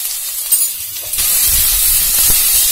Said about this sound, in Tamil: இப்போ இந்த நெய்யில் இந்த இஞ்சியை வளைச்சி போட்டுக்கலாம்ப்பா.